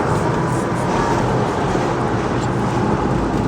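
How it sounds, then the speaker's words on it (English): Continuous engine and exhaust rasp from a 170 horsepower Audi A6 Quattro Avant C5 on the move, a steady broadband roar with road noise that holds at an even loudness throughout, with no talking. "you will hear some raspiness and possible little knocks from the exhaust"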